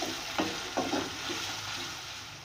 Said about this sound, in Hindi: अब इसमें ये भुना हुआ कुटा हुआ धनिया, भुना कुटा ज़ीरा, ये भी डाल के अच्छी तरह भून लेंगे